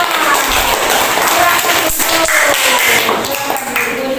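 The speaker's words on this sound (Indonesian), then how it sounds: "Tepuk tangan semuanya." Children in a classroom clap together, a short burst of scattered, uneven hand claps with some voices mixed in around them.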